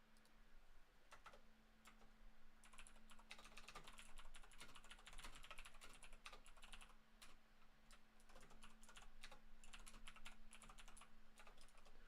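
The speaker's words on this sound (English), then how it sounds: "How hard can you guys hear the keyboard as well, I wonder? Is it really loud?" Steady typing on a computer keyboard, a dense run of light clicking keystrokes close by that continues throughout with a faint low hum beneath and no talking.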